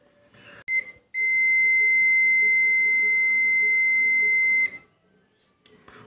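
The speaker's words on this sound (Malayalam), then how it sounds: "വളരെ കൃത്യമായിട്ട് തന്നെ നമുക്ക് ഇതിൻ്റെ ബീപ്പ് സൗണ്ട് കിട്ടുന്ന വളരെ ക്യൂട്ടായിട്ടുള്ള സൗണ്ടാണ് വരുന്നത്" A digital clamp meter in continuity test mode gives one steady high-pitched electronic beep lasting about three and a half seconds, after a brief click and short chirp, loud and close in a quiet room.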